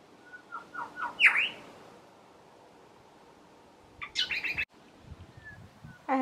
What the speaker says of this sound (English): that's another grey shrike thrush singing its heart out in the tree right